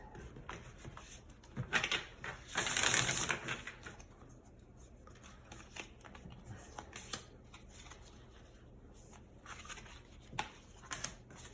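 A deck of oracle cards being shuffled close up, bursts of crisp riffling and flicking with a louder flurry early on, then scattered soft taps and slides.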